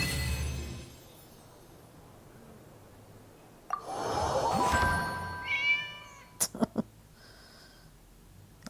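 Cat meows and soft cartoonish chimes play as card-game effects in the Genshin Impact Genius Invokation TCG, followed by a few sharp clicking hits, fairly close and clear against a quiet game background.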